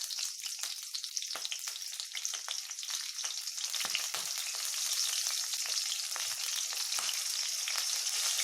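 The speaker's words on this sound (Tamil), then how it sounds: "இந்த கத்திரிக்காயை உள்ளே போட்டு அடிச்சிடலாம்." Eggplant frying in oil with curry leaves, a continuous bright sizzle that swells slightly louder in the second half, with occasional faint stirring ticks and no talk.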